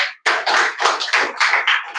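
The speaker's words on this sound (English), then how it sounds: "give a big round of applause" Applause from a small group at an English-learning event, a short burst of sharp, close claps in uneven bunches following a silent gap.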